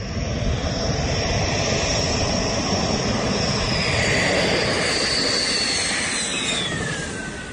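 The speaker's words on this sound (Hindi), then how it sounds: "5 रफाल फाइटर जेट" A Rafale fighter jet flies overhead with a loud, steady engine roar that holds evenly and eases off slightly at the end, with no voices.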